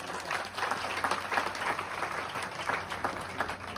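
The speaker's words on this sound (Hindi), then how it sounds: "ताली बजाओ एक बार इनके लिए" Audience applause for students called to stand at a talk, a dense steady clapping crowd sustained throughout, moderately loud, with no voice over it.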